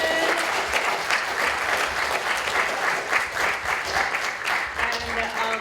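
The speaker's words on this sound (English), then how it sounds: "Give another round of applause for Surf Nation." An audience at a surf film festival in Honolulu claps and cheers in a sustained, full round of applause that holds steady for several seconds.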